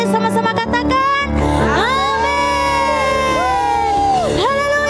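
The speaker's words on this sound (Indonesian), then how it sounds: "Yang mau bersorak-sorak bagi nama Tuhan Yesus" Church worshippers at an online Sunday service in Hong Kong shout and cheer for Jesus, a loud, sustained crowd roar with sliding whoops and high exclamations rising over the din.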